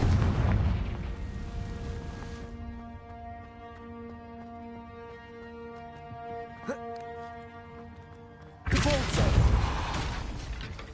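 A Confringo fire spell explodes in Hogwarts Legacy, with a loud opening blast decaying into a sustained ringing tone, one sharp crack in the middle, and a second heavy burst near the end.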